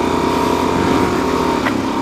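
A Suzuki DRZ dual-sport motorcycle engine runs on a snowy mountain road, giving a steady, loud, continuous mechanical drone with no voices over it.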